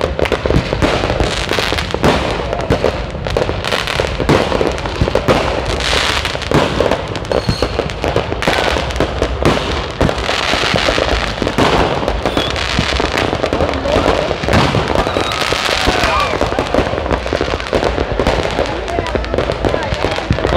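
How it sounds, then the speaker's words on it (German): Dense, continuous crackling and booming of New Year fireworks exploding nearby at Cha-Am Beach, Thailand, a relentless barrage with voices partly mixed into the noise. "Grüße natürlich wie immer aus dem wunderschönen Thailand mit diesem Neujahrsfeuerwerk hier am"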